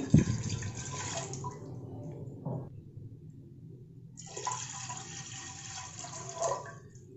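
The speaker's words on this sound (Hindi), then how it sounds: "चार कप पानी ऐड करेंगे" Water pours into a pressure cooker for cooking toor dal, a splashing, gurgling stream in two bursts separated by a short pause, close and fairly loud with no talking.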